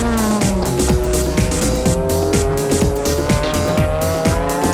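JGTC GT race cars, including the AU Supra, screaming past at speed with high-revving engines, rapid gear shifts and tire squeal, loud and close without any talk.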